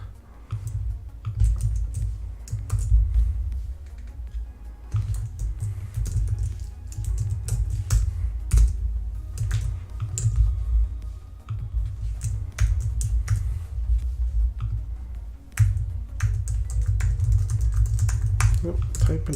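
Fingers type on a computer keyboard in quick, uneven bursts of clicky keystrokes, close and clear, with brief pauses between runs and a low background hum.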